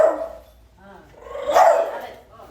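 Short dog barks and yelps close by, mixed with a brief human voice.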